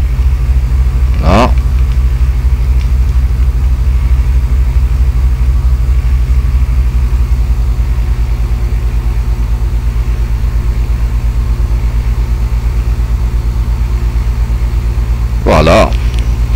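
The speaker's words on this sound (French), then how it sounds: "Gaz au ralenti." Light aircraft engine idling at low throttle, a loud, steady, low rumble that holds unchanged throughout, with two brief whooshing sweeps and a voice speaking over it.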